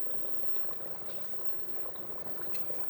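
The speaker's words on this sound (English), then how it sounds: "How come it's bubbling so much?" Thick pork and vegetable curry bubbles steadily in a pot, a soft, continuous stream of small pops and gurgles at low volume.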